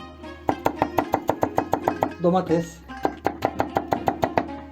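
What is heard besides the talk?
knife chopping vegetables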